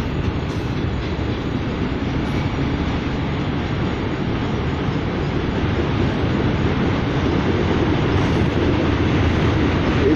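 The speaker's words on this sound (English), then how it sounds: "this is a long ass train" Heavy rumble of a freight train rolling past close by, continuous and steady, with faint clattering of wheels on rails.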